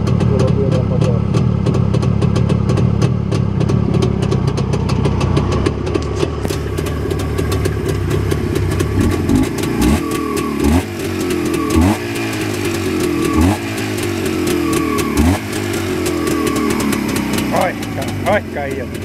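A motorcycle engine from a retro Jawa club runs steadily, first a dense low rumble, then a sequence of sharp revs and throttle blips that rise and fall roughly every second or two, with talk over it.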